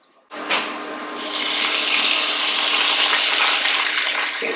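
Pinot Grigio white wine pours steadily into a hot pot, a loud, broad hiss and sizzle that rises after a brief splash and holds until near the end.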